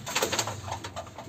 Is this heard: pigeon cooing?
yes